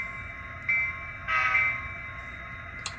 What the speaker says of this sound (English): We'll hit our horn, letting everybody know that we're stopped.